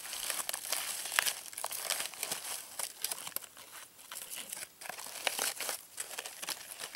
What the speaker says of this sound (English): Here's a paper bag.